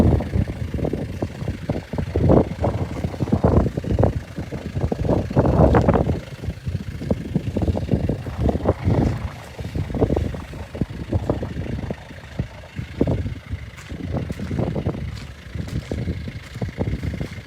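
Land Rover Defender engine running steadily at close range, a continuous low rumble with uneven surges and pulses throughout, no voices over it.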